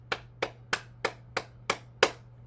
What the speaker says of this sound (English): Clap our hands.